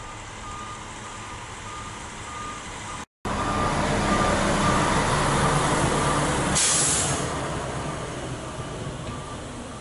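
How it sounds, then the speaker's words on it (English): A hi-rail truck crawls along a CSX rail line by the Delaware River, its steady engine rumble loud and continuous, with a repeating reversing-style beep and a brief hiss partway through. "A high rail arrives from Pennsylvania as it slowly travels on the CSX line"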